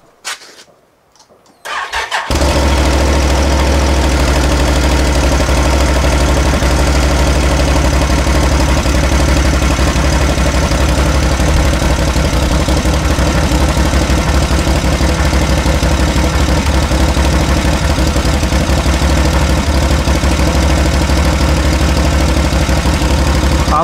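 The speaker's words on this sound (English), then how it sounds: "we're going to start off with a sound bite of the stock muffler" A 2018 Can-Am Outlander XMR 850 ATV with its stock muffler idles steadily and loudly after a brief quiet start, a deep continuous rumble that holds constant throughout with no talking.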